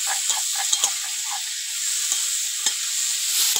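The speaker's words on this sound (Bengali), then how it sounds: "হলুদ দিয়ে এবার এটা ভালো করে কষে দেবো।" Fish curry spices with salt and turmeric are sautéed in a pan over a village clay stove for mrigal fish and green banana jhol. A steady close sizzle and hiss runs throughout, with soft scrapes and taps from stirring.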